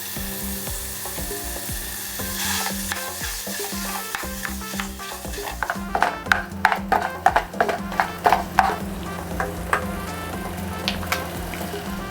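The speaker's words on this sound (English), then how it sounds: "Next, we'll cook the hamburger." Hamburger meat sizzles and fries in a pan, a steady frying hiss with sharp scraping and stirring clicks growing busier toward the end, no talking.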